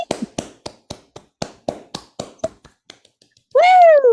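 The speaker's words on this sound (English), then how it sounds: "Should we clap it in?" Two hosts clap their hands together at the start of a live stream, about a dozen sharp, close claps in a loose rhythm that end just before a loud, high whoop.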